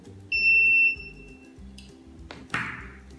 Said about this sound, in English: the light and the buzzer goes on.